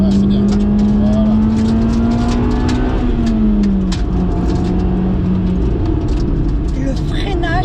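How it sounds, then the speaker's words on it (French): A Honda Civic Type R EK9 accelerates hard through the gears, its engine note rising loud and close, then dropping at a shift and pulling again, with steady road roar underneath. "Ça fait vraiment voiture de course."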